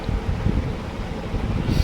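A cool morning breeze sweeps steadily across a quiet island near Kahalgaon, a continuous low rush of wind buffeting the microphone for the whole stretch.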